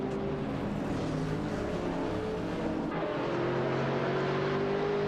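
Maserati MC12 GT1 and Ferrari 575 GTC race cars battling in a racing video game, a steady loud blend of engine drones with shifting pitch and no voices.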